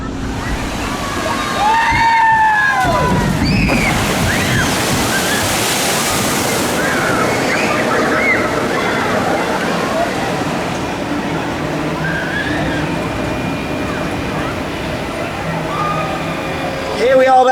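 A log-flume boat drops down a ride chute at an amusement park in a small version of a tidal wave ride, sending up a loud rushing splash and wave, followed by a steady wash of churning water with crowd noise.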